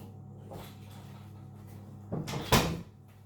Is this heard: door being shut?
yes